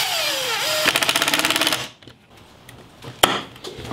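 A power drill drives a coarse-thread 1¼ inch screw into wood for cabinet doors, a rising whine and then a rapid ratcheting burst before stopping, followed by quiet and a sharp knock.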